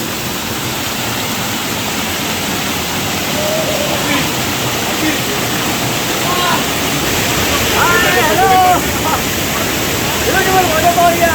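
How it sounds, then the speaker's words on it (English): Waterfall at Verna, Goa, a steady loud broadband roar of falling water filling the whole clip, with faint birdsong and distant voices emerging toward the end. "we'll be visiting some more beautiful waterfalls at Verna, Goa"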